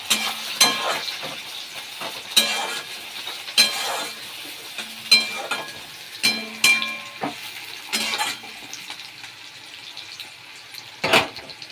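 Onions frying in a little oil in a pan already holding crisp-fried puti fish, a soft continuous sizzle broken by repeated sharp scraping strokes of a spatula, close and fairly quiet with no talk.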